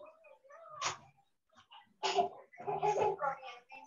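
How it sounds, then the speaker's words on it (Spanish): A small cat meows a few times indoors, short tonal calls close to the listener, with soft voices and household sounds around them. "Mi gatito."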